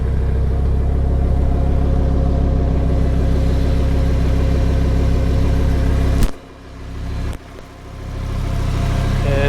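A 5.2-liter V10 in a 2018 Lamborghini Huracan Performante runs steadily with a loud, close, even rumble, then dips sharply twice in quick blips before settling back to its idle drone.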